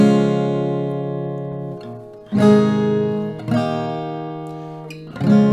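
Acoustic guitar chords strummed slowly, each chord ringing out before the next strum, four strums spaced a second or two apart, clear and close.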